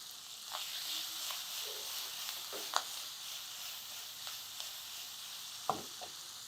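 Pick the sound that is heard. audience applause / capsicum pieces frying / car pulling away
capsicum pieces frying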